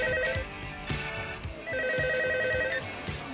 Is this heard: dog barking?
no